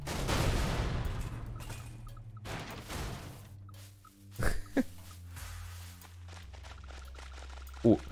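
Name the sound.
explosion in video game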